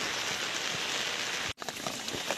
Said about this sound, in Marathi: पाऊस आलेला आहे तेवढ्यात त्यामुळं जरा व्हिडिओसाठी अडचण व्हायला लागली